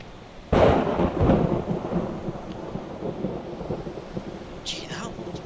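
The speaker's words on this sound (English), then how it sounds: "And the rain started." A squall-line thunderstorm in a tornado survival game: a loud, sudden thunderclap rolls into a long rumble, with steady rain hissing throughout.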